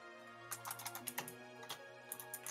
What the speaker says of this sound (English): He just types real loud. I just have a loud keyboard.